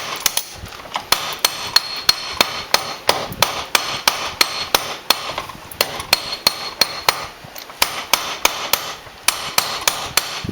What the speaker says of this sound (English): You can take your little hammer and tap them out like that on the inside